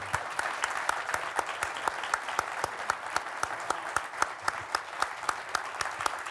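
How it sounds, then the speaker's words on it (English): Applause at a security-policy talk with Estonia's president, a small audience clapping in a rhythmic, fairly sparse pattern with distinct individual claps, moderately distant and steady throughout. "So, big round of applause."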